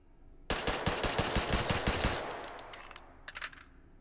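The Meatmas gun fires a rapid automatic burst in Hot Dogs, Horseshoes & Hand Grenades, loud and close for about two seconds, then a short second burst after a pause.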